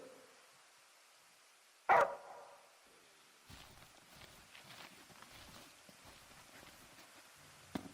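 A single sharp, loud bark from the dog Umbra in Final Fantasy XV, heard once early on, followed by soft rustling, footstep-like shuffling and faint ambience.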